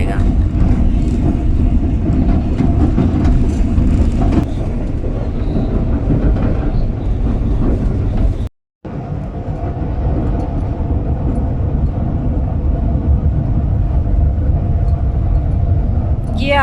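Karachi Express passenger train in AC Business Class running on rails in Pakistan toward Multan, with a loud continuous rumble and rattle heard from inside the carriage and a brief cut in the middle.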